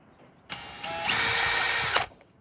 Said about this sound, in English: spin the drill